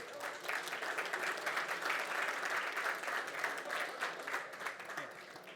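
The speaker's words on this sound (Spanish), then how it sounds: "Un aplauso, por favor." Polite audience applause greets the moderator of an insurance-industry mobility panel, an even wash of clapping held at moderate distance for several seconds.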